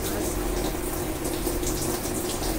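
Water pours steadily into a pot of Agri-Koli style sour stingray curry, a continuous close rushing gush with no break across the whole moment.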